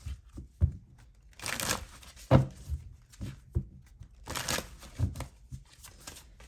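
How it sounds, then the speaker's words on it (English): Tarot cards are shuffled in several quick riffling bursts, with soft taps and crinkly handling noises between them; no talking. "Let me go ahead and shuffle, because a whole chunk of cards flew out."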